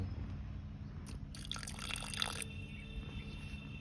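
A small splash of water poured into a mix of ginger, garlic, broken dried chilli and cumin spice, a short trickling pour heard close up over a steady low background hum.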